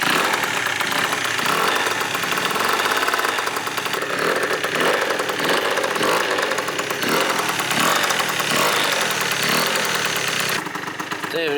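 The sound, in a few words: Yamaha Aerox scooter engine idling while warming up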